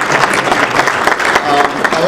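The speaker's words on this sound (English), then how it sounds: "you can clap." Audience applause at a city council-related event for the Rock Cats baseball team's Hot Stove gathering, a steady dense wash of clapping from a crowd, with a voice speaking over it.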